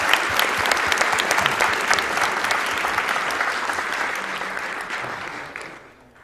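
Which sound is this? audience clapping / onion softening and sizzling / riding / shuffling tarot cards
audience clapping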